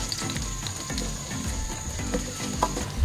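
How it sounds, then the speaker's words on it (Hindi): Cumin, raisins and chopped coconut roasting in ghee over a medium flame for sweet jaggery rice, a close, steady sizzle and crackle with scraping stirs and occasional clicks of a utensil against the pan. "1 मिनट के लिए मैं इन सारी चीज़ों को मीडियम फ्लेम पे रोस्ट कर लूँगी।"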